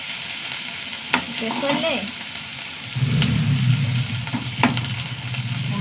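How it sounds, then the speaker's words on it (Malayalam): Onions and curry leaves fry in a pan with a steady broadband sizzle, broken by sharp scrapes of a spoon stirring against the metal and a brief voice over the top. "ഉള്ളി നന്നായി മൂത്ത് വരട്ടെ."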